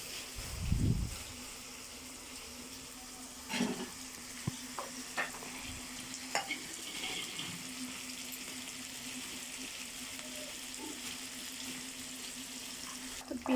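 Onions lightly frying in a wok for Christmas fried rice, a soft steady sizzle running throughout with occasional clinks and stirring knocks, fairly quiet and close, no talking.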